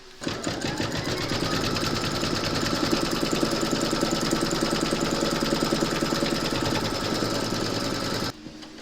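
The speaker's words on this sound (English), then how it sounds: "Pop your hoop into your machine and stitch round number 2 to secure it" An embroidery machine stitching placement outlines on hooped fabric and batting, a fast steady mechanical whirr with rapid needle rhythm, close and continuous for several seconds before stopping abruptly.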